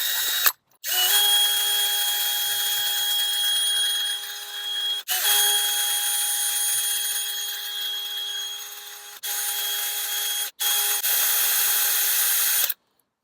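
Cordless DeWalt drill fitted with a sanding wheel, sanding plastic in several bursts of high, steady whine separated by brief stops; close and fairly loud, with no talk.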